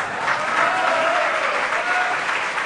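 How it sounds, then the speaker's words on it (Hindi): Audience applause at a spiritual discourse, a sustained, dense burst of many hands clapping at moderate loudness, with no speech over it. "तालियां बजाना, खुशी मनाना, ये बहुत अच्छी बात है"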